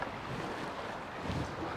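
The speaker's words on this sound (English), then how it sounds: "It's quite windy from left to right." Steady wind rushing and buffeting against the microphone outdoors while fishing in Norway, a broad low roar with no voices.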